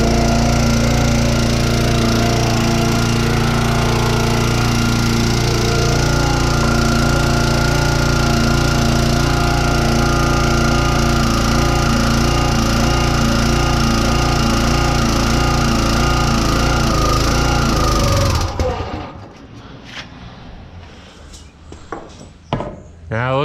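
A log splitter's small engine runs loud and steady at close range for a long stretch, then bogs down abruptly and dies, leaving scattered clunks and faint noises.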